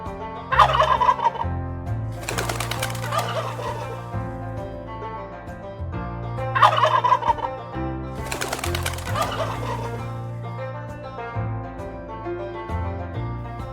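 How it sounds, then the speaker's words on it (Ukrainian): Loud turkey gobbles ring out twice, each a rapid rattling call, over a steady musical backing. "Дивіться, це індик. Він говорить куль-куль-куль."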